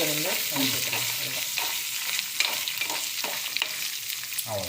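Food is stirred and sautéed in a frying pan, with close, steady sizzling broken by repeated scraping strokes.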